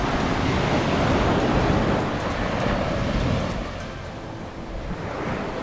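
Sea surf at Gotheeswaram beach in Kozhikode, near a sea wall, makes a loud, continuous broadband roar with wind buffeting the microphone and a slight easing of the wash toward the end.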